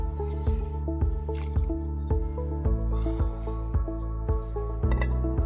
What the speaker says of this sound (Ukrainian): ми закидуємо нашу картоплю